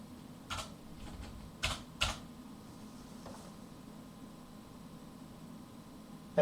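A few scattered keystrokes on a computer keyboard, entering a netboot command at a NetbootCD boot prompt, sound faint and brief over a steady background hiss.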